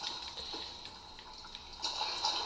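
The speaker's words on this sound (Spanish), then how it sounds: "El sonido, tío, el agua." Flowing water in the video game Demon's Souls, a steady rushing and trickling wash with brief splashy swells, heard alone at moderate level.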